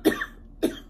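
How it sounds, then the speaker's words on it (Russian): An ill woman gives two short, sharp coughs about half a second apart, close and moderately loud in a quiet room. "как вы видите, тоже еще кашляю"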